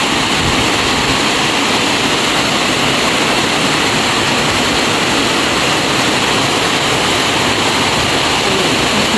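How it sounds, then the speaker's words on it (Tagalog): Heavy rain pours down in a dense, unbroken roar of hiss, loud and close, with no pauses. "Abutan ng ulan."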